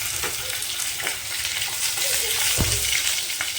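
Whole cumin seeds and green chillies fry in hot oil for a vegetable curry, producing a continuous, close crackling sizzle with a single soft knock partway through.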